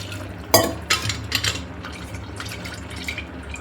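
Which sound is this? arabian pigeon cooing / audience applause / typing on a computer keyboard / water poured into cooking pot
water poured into cooking pot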